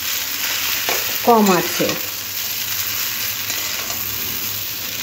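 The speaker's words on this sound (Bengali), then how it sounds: "দিয়ে ভালো করে সবজি ভেজে নিতে হবে" Vegetables and chowmein frying in a pan, a continuous even sizzle with soft stirring, and a short spoken phrase partway through.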